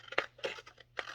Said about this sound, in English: I don't like these scissors because they